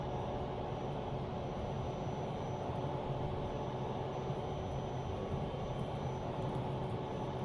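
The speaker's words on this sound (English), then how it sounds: "I do think the sounds in general are not particularly good for most of the default aircraft." A default aircraft's engine in Microsoft Flight Simulator 2024 holds a steady, loud, droning roar with an even rumbling texture from start to finish and no voices over it.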